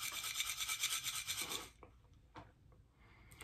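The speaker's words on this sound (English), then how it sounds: "If I shake it, it sounds a little bit like a maraca or one of those shakers, so there's something maybe small inside." Salt shaken inside a small container, making a bright rattling rasp in quick repeated pulses for under two seconds, then stopping, leaving faint scattered taps and near silence.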